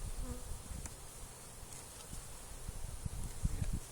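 A steady, dense buzzing of many honey bees at an opened hive fills the air, close and continuous, with occasional soft rustling underneath.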